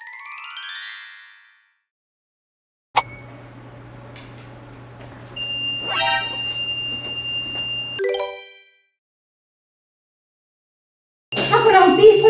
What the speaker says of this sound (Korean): 여러분 나갈 때 도난 방지 게이트에서 소리가 날 거예요